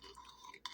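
A metal spoon set into a small 3D-printed plastic cauldron gives a brief clink near the end, close and fairly quiet, with light handling rustle before it.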